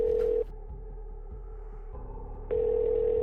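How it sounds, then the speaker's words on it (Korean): A ringback tone on a phone line as a call goes from a police station to a dormitory room in the early morning: a steady electronic tone, then a two-second pause, then the tone again, heard alone and fairly clear. "전화를 걸어봤습니다"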